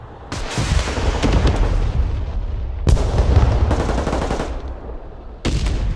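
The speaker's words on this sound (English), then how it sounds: "The whoosh of the rockets" Rockets whoosh in the Broken Arrow war game as missiles streak up a road toward a T-72 tank: loud, dense rushing bursts that roll continuously, with three distinct launches starting near the beginning, around the middle and near the end.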